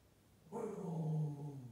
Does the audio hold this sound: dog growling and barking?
yes